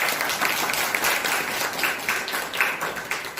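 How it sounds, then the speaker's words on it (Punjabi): Audience applause at a community event where a charity distributes blankets and bags in Punjab, steady sustained clapping from a crowd that rises and falls in waves throughout. "ਇਹਨਾਂ ਲਈ ਇੱਕ ਜ਼ਰੂਰ ਜ਼ੋਰਦਾਰ ਤਾੜੀ"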